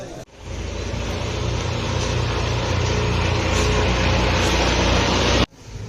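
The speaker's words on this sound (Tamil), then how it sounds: "ஏகப்பட்ட டிராக்டர் வருது" Many tractors pass along a road on the way to Sabarimala, their engines making a loud, steady, low rumbling roar that holds unbroken for several seconds before cutting off abruptly.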